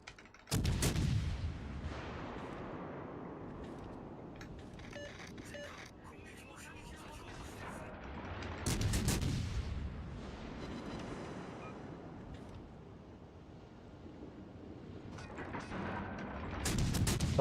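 Naval artillery in the World of Warships Legends video game fires in heavy, booming salvos: three loud blasts spaced several seconds apart, each trailing off into a rumbling decay, with a voice talking throughout.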